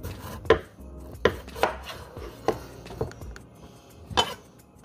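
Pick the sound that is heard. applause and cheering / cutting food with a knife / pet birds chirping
cutting food with a knife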